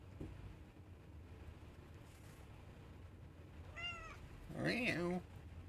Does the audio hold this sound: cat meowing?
yes